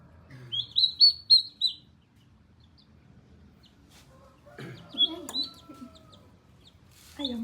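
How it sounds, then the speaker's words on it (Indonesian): Turkeys on a turkey farm give short high chirping calls in two bursts separated by quiet, with faint clucks and background voices in between. "Ayam kalkun. Kalkun itu kalkun."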